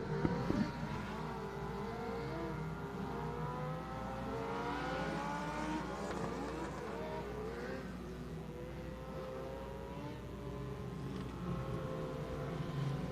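A field of Mod Lights dwarf race cars roars off at the start of a qualifying race, many engines revving and rising in pitch together in a sustained, loud, layered drone.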